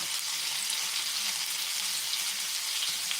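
Pieces of wild pheasant browning in a frying pan give off a steady, dense sizzle and crackle, close and loud, with no talk over it.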